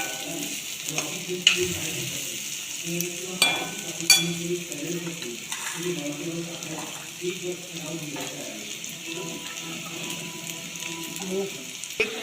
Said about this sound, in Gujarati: મિનિટ માટે ડુંગળીને સાતરી દઈશું